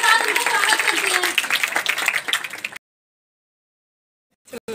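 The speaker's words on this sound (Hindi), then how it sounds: "आइए जोरदार तालियों के साथ उनका स्वागत करते हैं।" Dense applause from an audience welcoming a women's welfare officer at a Mission Shakti program event, loud and continuous for nearly three seconds before cutting to silence.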